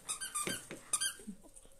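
A dog wanting to play gives a few quick high squeaks and whines, close and fairly soft, in short bursts during a sewing session with no talk over them.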